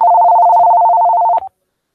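A telephone dialing tone sounds loud and steady for about one and a half seconds, then a brief click and silence.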